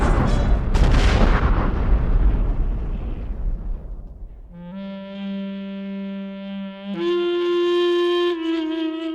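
Cannon fire roars in a battle between Ottoman and Safavid armies: a dense, loud rumble of blasts and booms over several seconds that fades out and gives way to a sustained musical tone.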